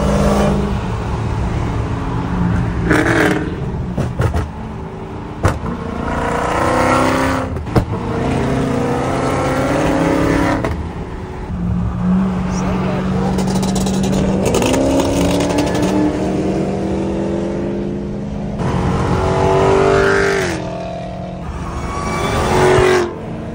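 Several Dodge Hellcat cars rev and accelerate hard in a rolling race, engines roaring loud and close with rising pitch sweeps as they pull away, passing and fading repeatedly.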